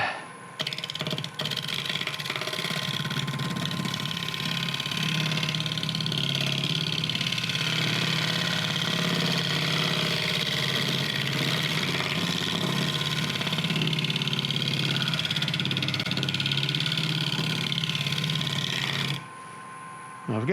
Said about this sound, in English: And I'm going to start with my 5/8 inch bowl gouge.